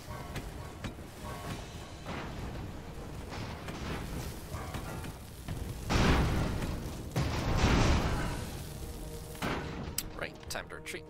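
Normal-sized cannons fire from airships during a sky battle in the strategy game Airships: Conquer the Skies, with repeated booming shots and dull bursts under steady game noise, fairly faint overall.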